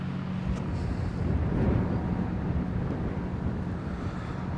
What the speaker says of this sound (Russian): ветер, я бы не сказал, что холодный